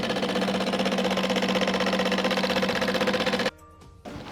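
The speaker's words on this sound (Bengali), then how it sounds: "এখন আমরা ঠিক অপোজিট সাইডেও একইভাবে হ্যান্ডেলের সাথে হ্যান্ডেল মিলিয়ে সেলাই করে নিচ্ছি" A sewing machine stitches the handles of a jute tote bag, a rapid rhythmic mechanical chatter running steadily and close, then cutting off suddenly near the end.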